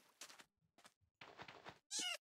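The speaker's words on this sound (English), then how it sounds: "oh, it's a baby kitty cat" A cat in the Minecraft video game meows in short quiet bursts separated by silence, with one louder, higher cry near the end.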